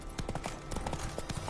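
Roach, a horse in the video game The Witcher 3, trots with steady clip-clop hoofbeats, close and fairly quiet, with no talking over them.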